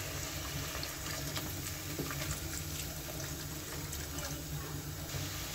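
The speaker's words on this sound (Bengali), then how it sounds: "এখন আর একটু জল দিতে হবে।" Water poured into a pan of rohu fish curry with yogurt, a steady continuous splashing pour running the whole time, close and fairly loud, no talking.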